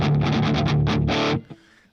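A heavily distorted electric guitar runs through a Strymon Iridium amp pedal without a Tube Screamer, playing a quick series of tight, chugging palm-muted stabs, loud and close, ending on a ringing chord that decays.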